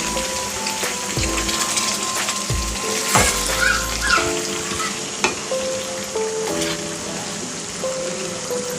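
Broiler chicken sizzles and crackles steadily in a pan over a medium gas flame, with occasional scraping clatter as a utensil stirs the meat, close and continuous with no speech.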